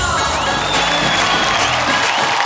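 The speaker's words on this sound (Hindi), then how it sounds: "one of the most popular and one of the best entertainer Krishna Abhishek के लिए जोरदार तालियां" An awards show audience at the Indian Television Academy Awards bursts into applause and cheering, a dense, loud wash of clapping and shouts that fills the hall continuously for a couple of seconds.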